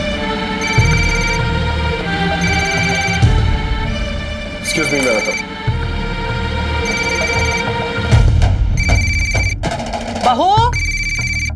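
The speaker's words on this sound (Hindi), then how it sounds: "तुम्हारा फोन कब से बज रहा है?" A mobile phone rings in repeated bursts of a bright electronic tone, loud and close, while people talk over and between the rings.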